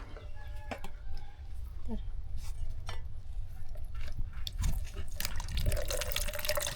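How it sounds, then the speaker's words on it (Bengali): Water drains and drips off while coconut sweets are made in a village, a faint trickling under nearby clucking and crowing chickens and a little background chatter. "পানিটা বের করে দাও"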